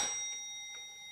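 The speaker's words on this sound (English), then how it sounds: "You get a single strike to the movement, and then the bell in the upper tower also moves with that strike." A Black Forest monk and nun automaton clock strikes a single quarter on the bell in its upper tower: one quiet, clean chime that rings out and slowly fades.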